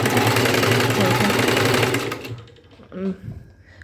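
A sewing machine stitches a blouse with a loud, steady whirring run for about two seconds, then stops, and someone speaks nearby.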